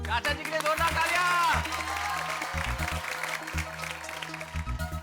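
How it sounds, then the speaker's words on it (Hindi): Crowd of neighbours at a housing society function applauds enthusiastically, a continuous wash of clapping and cheering under music and talking voices. "चाचा जी के लिए जोरदार तालियां।"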